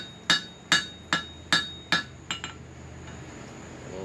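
A hammer peens a rivet head on slot jaw tong blanks, striking five evenly spaced ringing metallic blows, then two lighter taps, close and clear with no talking.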